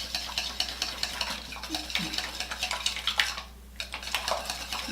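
Hair colour dye is stirred in a bowl, a soft, rhythmic scraping and wet swishing with light tool taps, close and fairly quiet over a low hum, with a brief pause near the end.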